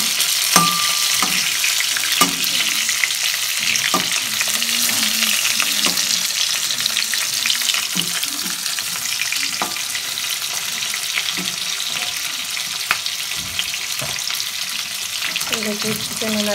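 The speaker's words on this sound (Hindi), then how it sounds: "चिकन हमारा फ्राई हो चुका है" Chicken frying in oil for homemade tandoori, a loud unbroken sizzle close up, punctuated by occasional scraping and tapping of a spatula against the pan, with no speech over it.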